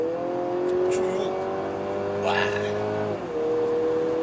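A Mercedes-Benz GLC 300 in sport mode pulls hard from inside the cabin, its engine note rising steadily in pitch, then dipping briefly as it shifts, under occasional short exclamations from the driver.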